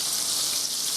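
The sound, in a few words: pork chops sizzling in a frying pan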